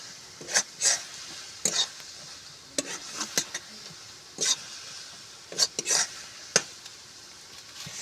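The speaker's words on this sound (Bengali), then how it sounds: "গরম মশলা দিয়ে এবার আমি ভালো করে এইভাবে নেড়ে চেড়ে পুরটা ভালো করে সুন্দর মতো করে তৈরি করে নেব।" Coconut filling with garam masala being stirred in a pan for narkel pitha, heard as a series of sharp scraping strokes of a spoon against the pan over a quiet background.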